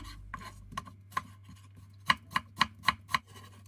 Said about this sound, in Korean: 양파는 중간 크기고요. 채를 썰어주세요.